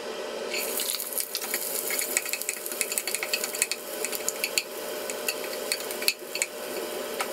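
Hotdog sautéing in a pan gives a steady, close sizzle, broken by scattered clicks and scrapes of a utensil against the pan.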